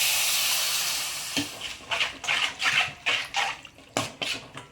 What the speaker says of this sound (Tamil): தண்ணி கொஞ்சமாக சேர்த்துக்கோங்க.